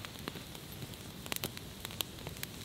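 Quiet, steady crackle of a small fire with scattered sharp pops and snaps, heard alone without talking.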